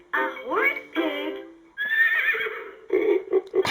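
Recorded horse neighs from a LeapFrog farm animal mash-up toy: a loud, rising whinny followed by another, then a sustained squeal and snorting bursts, close and electronic-sounding.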